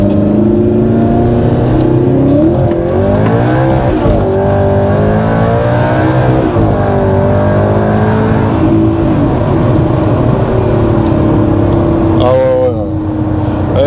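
An Audi R8 V8 engine revs loudly and close by, its pitch climbing and falling in repeated throttle blips over a steady idle rumble, with people speaking over it.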